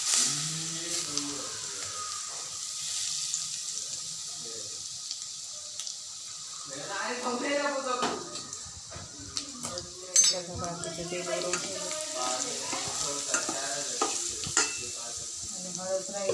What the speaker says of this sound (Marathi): आता गरम गरमच तेल टाकायचं इथं